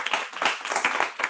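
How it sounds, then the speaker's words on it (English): Brief applause on a small group's video call, a scattering of claps over about a second, fairly close and moderately loud, with no voices. "Round of applause."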